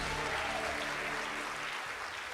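A church congregation applauds in a continuous wash of clapping that stays even and fairly faint throughout.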